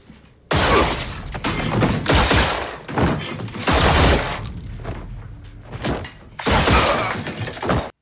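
Loud gunfire in an action film scene as an ex-special forces soldier fights his enemies, with dense bursts of shots and shattering impacts in several long volleys separated by brief pauses.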